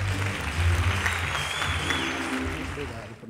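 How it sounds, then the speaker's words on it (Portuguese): Crowd applauding at a comedy roast event in Brazil, a broad sustained round of clapping with some background voices mixed in, slowly easing off at the end. "Uma salva de palmas."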